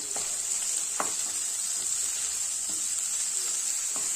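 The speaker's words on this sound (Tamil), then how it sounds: "இந்த தக்காளி எல்லாம் வதங்கிடுச்சு" Tomato sautéing with onion and green chillies in a pan for potato masala: a steady close hiss of frying with a few soft stirring scrapes and taps, no voices.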